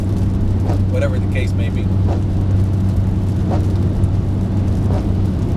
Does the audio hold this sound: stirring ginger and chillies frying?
no